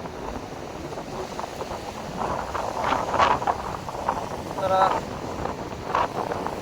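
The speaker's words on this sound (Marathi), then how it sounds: "तुफान वारा आहे मित्र, तुफान वारा." Strong wind blowing over the sea during rod fishing: steady low rumbling microphone buffeting throughout, with a voice breaking in a few times.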